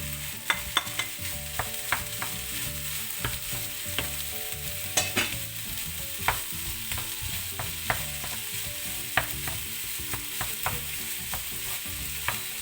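Minced meat and spices frying with onions in a Thermomix, a steady sizzle with regular clicks and scrapes from stirring, close and continuous with no talk.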